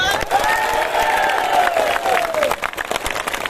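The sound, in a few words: applause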